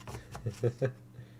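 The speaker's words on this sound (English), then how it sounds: "I'm gonna shuffle them all right out here." Playing cards are shuffled in a short run of soft snapping riffles, close and quiet, with a low hum behind and no clear speech.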